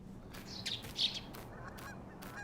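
In a bird-themed video game, a goose gives a couple of short honks after being poked, faint and thin over a soft ambient bed with light bird chirps.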